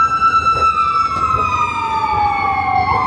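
Emergency vehicle sirens from a fire truck and ambulance wail loudly on a city street along the Las Vegas Strip, their pitch sliding steadily downward as they pass, over background traffic.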